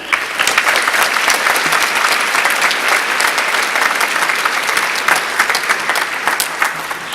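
Sustained applause from a graduation audience at a university computer science senior celebration, steady and dense clapping filling the hall from start to finish with only faint crowd murmur beneath.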